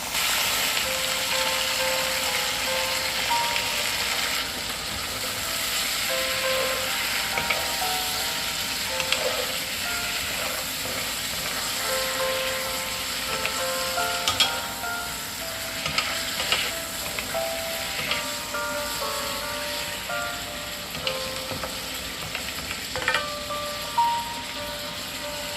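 Chicken wings frying in a pan with sautéed aromatics, seasoned with ground pepper and fish sauce for tinola, giving a steady close sizzle with occasional stirring scrapes, with faint music underneath and no talking.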